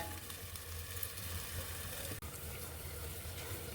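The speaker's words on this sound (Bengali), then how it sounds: "এরপরে আমি ঢাকা দিয়ে এটাকে ভালো করে সিদ্ধ করে নেব" Taro and small fish boil in a covered pot with water, a steady low bubbling simmer and faint sizzle running continuously without talk.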